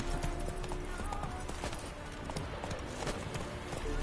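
A horse gallops in the Witcher 3 video game, rapid rhythmic hoofbeats thudding steadily and fairly quietly across the whole stretch, with no talk.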